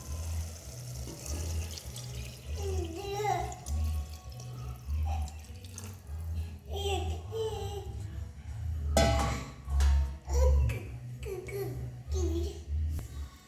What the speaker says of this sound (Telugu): సో మనం దీంట్లోకి ఇప్పుడు ఎసరు అనేది వేసుకుందాం.